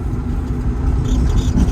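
An Electrogenic electric Porsche 356 driven hard into a corner on a track, giving a loud, steady low drone of motor, tire and wind noise that rises slightly toward the end, with no voices.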